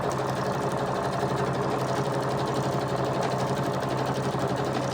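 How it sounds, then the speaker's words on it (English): A sewing machine stitches a patchwork cover with a steady, fast mechanical whir that runs unbroken and loud throughout. "we're gonna just sew right up there"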